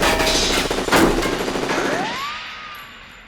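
Rapid gunfire rattles in the Metal Gear Solid 2 video game, a dense loud burst of shots for about two seconds, then a whizzing streak as it fades into quiet.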